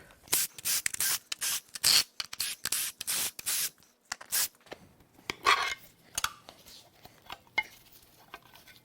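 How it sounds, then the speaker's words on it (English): Work to remove the passenger-side valve cover from a Toyota 4Runner 5VZ 3.4L V6 during a teardown gives a run of close, irregular bursts of scraping, rubbing and metallic rattling, separated by short pauses, with no talking. "we're going to remove the passenger side or right valve cover"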